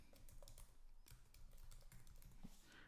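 Quiet, rapid keystrokes clatter on a computer keyboard in an irregular burst, close by and faint, with no talk.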